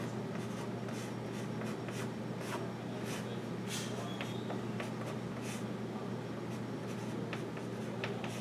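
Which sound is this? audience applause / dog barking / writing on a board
writing on a board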